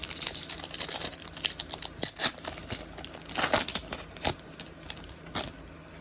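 Foil NFL Score trading card packs from 2020 torn open and cards shuffled, a busy run of crinkling, rustling and sharp crackles at close range, with no talking.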